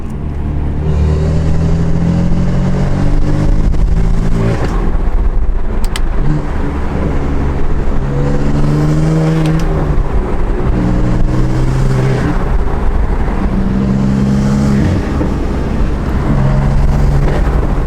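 BMW F80 M3 with a Mad Max exhaust, valves open in Sport Plus, revving loudly and continuously up close, engine tone rising and falling in repeated pulls with a deep, raspy drone throughout.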